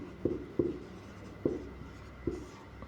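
Pen or chalk writing during a Class 9 maths lesson taught in Hindi: four short scratchy strokes at uneven intervals, close and fairly quiet, with no voice over them.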